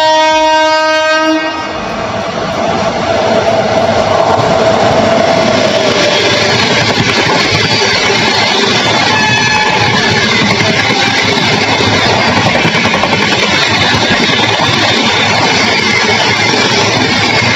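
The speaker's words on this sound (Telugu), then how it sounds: "చెన్నై సెంట్రల్ నిజాముద్దీన్ ట్రైన్ అయితే మనకి రైల్వే స్టేషన్ నుంచి వెళ్తుంది" The Chennai Central–Nizamuddin express rushes through Peddapalli Junction without stopping, loud and close, with a long horn blast at the start giving way to a sustained roar of wheels and carriages rumbling past.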